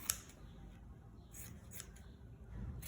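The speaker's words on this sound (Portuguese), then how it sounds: "agora eu já posso cortar o excesso de manta" Scissors snip through excess quilt batting on a double-zip fabric pouch, giving several crisp, close, quiet cuts spaced across the moment with soft rustling in between.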